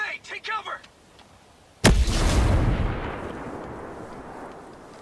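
A grenade goes off in the video game Ghost Recon Breakpoint, a sudden loud blast that rolls out into a long rumbling decay, following a few short bursts of speech.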